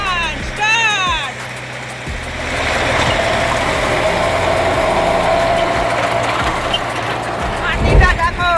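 A big tractor with a rotavator attached, running while tilling an onion field: a steady, loud engine rumble and drone that carries throughout, with a brief voice near the start.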